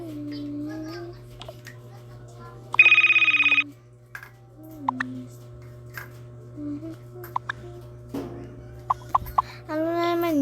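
Mobile phone ringtone for an incoming call, a loud bright electronic tone lasting under a second, set among soft household noises, a cough and scattered short sounds, with a steady low hum underneath.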